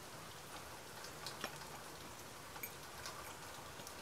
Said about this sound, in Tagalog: Maaraw, pero umuulan.